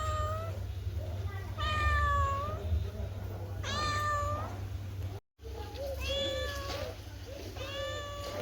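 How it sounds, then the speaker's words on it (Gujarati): A cat meows repeatedly in drawn-out calls, about five distinct meows spaced a second or two apart, close over a constant low electrical hum with a brief dropout midway. "તો બિલાડી બેન દૂધ માંગી રહ્યા હે"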